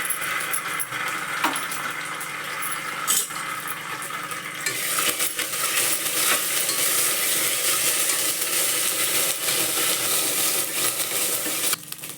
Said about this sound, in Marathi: जिरं घालायचं नुसतं चांगलं चमचाभर जिरं घालायचं लसणाची पेस्ट घालायची